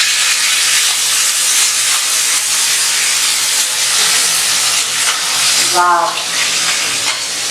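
Tomato puree hits hot oil left from frying meatballs, with chopped onions already in the pan, giving a loud, steady, close hiss that fades slightly near the end, where a brief exclamation is heard.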